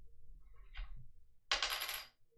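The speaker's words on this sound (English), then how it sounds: "it does sound like a really high quality dice" A single die rolls briefly on a hard surface, a soft clatter followed by a brighter, louder rattling tumble that dies away after about a second, close and quiet with no talk.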